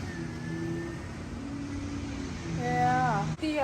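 A truck engine idles and then revs up through a newly switched dump exhaust, a low droning note that swells louder near the end before cutting abruptly, with a tonal whine riding over it.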